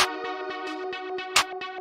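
A standard clap drum sample in a trap-style beat, struck in a steady run of about eight sharp hits over a sustained synth lead, with one louder, brighter clap near the end.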